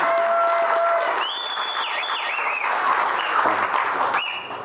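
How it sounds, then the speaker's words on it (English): A crowd applauds steadily throughout, with a few high whistles cutting through the clapping. "Everyone give a round of applause"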